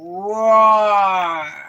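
A voice imitates a lion's roar in one sustained, rising and falling growl lasting over a second, loud and close, with no other sound around it.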